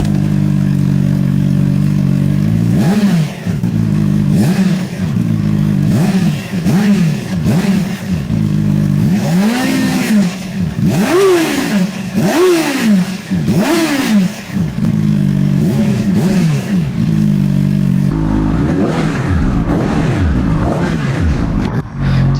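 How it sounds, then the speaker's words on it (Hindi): A CFMOTO 750 SR-S four-cylinder motorcycle engine idles loud and close, then revs again and again in sharp blips that rise and fall, ending in a steady idle. "चार सिलेंडर इंजन, यह भेदने वाली गहरी आवाज सुनने में अच्छी लगती है।"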